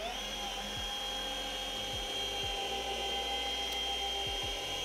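A car polishing machine whines steadily at low speed on paintwork with abrasive compound, a continuous high-pitched hum with occasional brief dips in pitch as pressure shifts.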